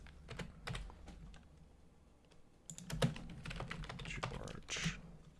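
Clicks and clacks of a computer keyboard come in short bursts, quiet and close, with the rhythm picking up near the end.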